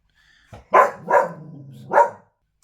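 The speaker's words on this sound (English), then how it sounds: "somebody literally came to the door then, which set Luna off, my little dog, barking and trying to save me from all the baddies" A small dog barks three times in quick succession, loud and close, reacting to someone arriving at the door, with a short rustle just before the first bark.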